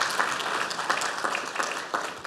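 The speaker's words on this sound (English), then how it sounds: "Let's give him a very big clap, please." An audience claps for a 19-year-old parliamentary candidate after his opening remarks, steady dense applause filling the short stretch with a few sharper bursts, fairly close and with no talking over it.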